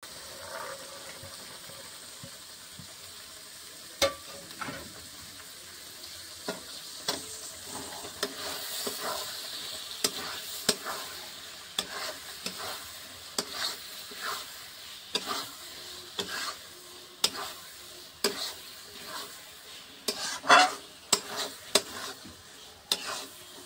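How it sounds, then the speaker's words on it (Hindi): Ground masala with salt and turmeric fries in a pan as a tempering, with repeated stirring scrapes and clinks over a soft, steady sizzle. "यहाँ मैंने मसाला को पीस के छौंक दिया है, इसमें नमक और हल्दी ऐड किया"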